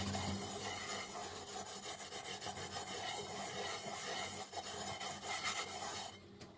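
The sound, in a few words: scrubbing a pan with cleaning mixture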